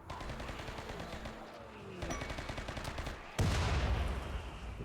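Rapid gunfire from a RimWorld colony battle, with bursts of repeated shots at changing intensities and a louder volley near the end, moderately quiet overall and without speech.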